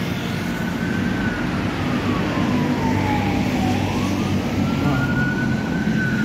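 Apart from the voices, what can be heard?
ambulance siren in the street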